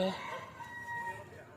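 A rooster's crow rings out nearby, a single stretched call, with some faint voice-like sound at the start.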